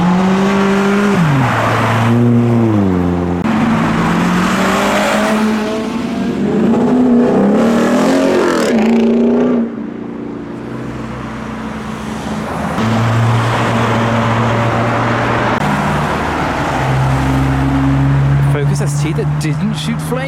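Tuner cars arriving at a car meet, including an MX-5, with loud engines revving and passing close by one after another, their pitch rising and falling continuously.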